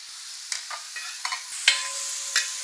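Unripe papaya stirred as it sizzles in ghee: a steady frying hiss with several scraping strokes of a spoon against the pan, close and clear, with no talking.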